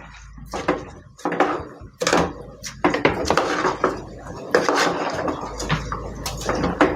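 Rice and chicken masala stirred in a pot over a high flame, repeated close scraping and clanking of a spoon against metal in uneven bursts, with a background sizzle.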